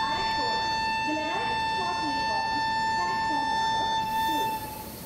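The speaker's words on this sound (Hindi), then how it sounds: "तो गाइस मैं यहाँ पे लंबा सा हॉर्न मार के बता देता हूँ कि अपनी ट्रेन यहाँ से होने वाली है डिपार्ट" Long horn of the Kaveri Express locomotive (16022, Mysuru to Chennai) sounding at departure, a steady sustained tone held for several seconds over background chatter and station noise, close and loud before fading out.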